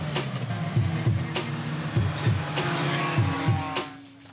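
Powerful street car revving hard for an illegal night race on Réunion island, engine roaring loud and close in repeated surging bursts with sharp throttle blips, no voices.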